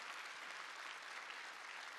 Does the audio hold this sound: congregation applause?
yes